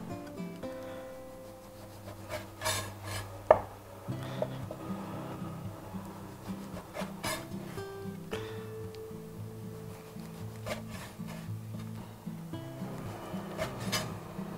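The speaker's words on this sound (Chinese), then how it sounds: "稍微把这边给它切一下啊，这个吐司" A knife saws through a slice of toast bread, making quiet, repeated rasping scrapes over soft background music.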